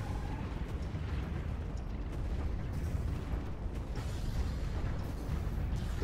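Space battle in the strategy game Stellaris, with battleships being shot down: a continuous, dense rumble of explosions and heavy weapon booms, loud and unbroken throughout, with no voices.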